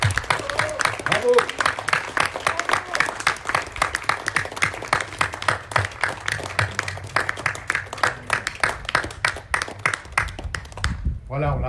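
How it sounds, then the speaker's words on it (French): Audience at an Easter mass in a Fribourg care residence applauding the staff, a steady dense patter of many hands clapping for several seconds before stopping abruptly, with some voices mixed in. "Alors, on peut tous applaudir les membres du personnel."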